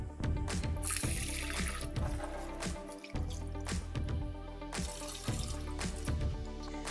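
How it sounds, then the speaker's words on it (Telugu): Toor dal (pigeon peas) is rinsed under a running kitchen tap at a sink. Water gushes and splashes continuously, with intermittent sloshing and dripping as the lentils are swirled. "కందిపప్పుని ఫస్ట్ వాష్ చేద్దాం."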